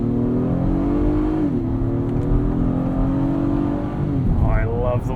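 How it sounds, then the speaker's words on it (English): Engine of a 2022 Acura MDX A-Spec with its V6 accelerating from inside the cabin, a steady droning note that rises in pitch and then shifts as the gear changes, heard close under some talk. "Oh, I love the way this V6 sounds."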